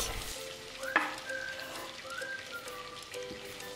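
Onion and garlic frying in a pan of melted oil and butter, a soft, close sizzle with a few light stirring clicks and scrapes, fairly quiet and without voices.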